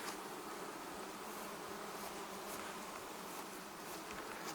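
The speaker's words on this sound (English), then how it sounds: "We see bees working." Honey bees buzzing steadily at a hive during an inspection, a dense, continuous hum that stays even and close throughout with no voices.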